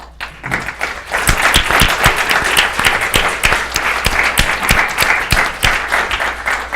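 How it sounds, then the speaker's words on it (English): Audience applause for three Democracy Award winners at a ceremony on Chinese repression, a dense crowd clapping with sharp individual claps standing out, steady and loud throughout. "I guess you just did a round of applause for our 3 Democracy Award winners"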